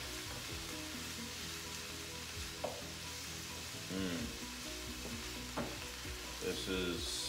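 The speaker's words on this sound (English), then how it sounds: "You can hear that sizzling going, it's cooking." Taco soup ingredients sizzle and fry steadily in a pot while being stirred, with occasional scraping and clinking knocks over the continuous hiss; no talking.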